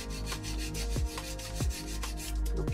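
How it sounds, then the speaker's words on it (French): Fingernails filed with a Neyo 120 grit nail file, a close, dry rasping rub repeated in steady back-and-forth strokes. "je vais utiliser les toutes nouvelles limes de chez Neyo"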